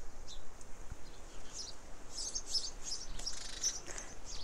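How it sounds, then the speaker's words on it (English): Sparrows chirp in a garden bush, a scattering of faint, distant high tweets that come and go over a quiet outdoor background with no voices. "Oh, so we'll say goodbye to the sparrows."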